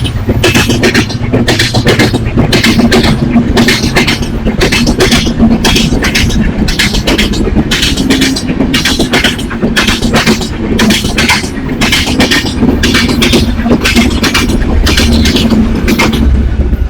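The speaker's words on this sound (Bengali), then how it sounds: "দ্রুত যান ট্রেনটি।" An express train passes at high speed near a village station, a loud continuous roar with steady rhythmic rail clatter running for the whole stretch, with no talking.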